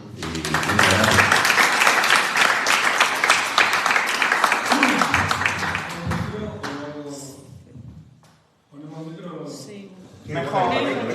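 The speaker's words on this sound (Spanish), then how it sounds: "a él le vamos a dar un fuerte aplauso" Audience applause at a flamenco celebration event in Lorca, a loud, dense round of clapping lasting several seconds that fades, followed by people talking.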